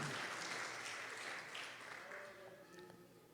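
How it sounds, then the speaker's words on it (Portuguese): A church congregation applauds during an evening worship service, a soft, steady wash of clapping heard from a distance at low volume, with faint voices mixed in. "Uma salva de palmas bem forte para Jesus"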